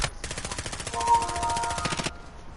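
Sustained rapid automatic gunfire in Call of Duty: Warzone, a dense rattling burst of about two seconds with closely spaced loud shots, cutting off sharply, with no talk over it.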